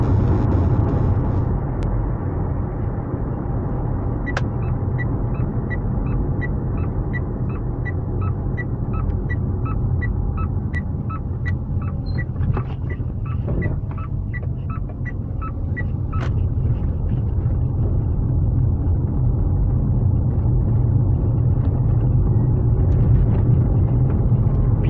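A plug-in hybrid car accelerates toward highway speed while towing a trailer loaded with ten hay bales. It makes a steady, loud rumble of road and drivetrain noise, continuous throughout, with faint high beeping tones partway through and no talk.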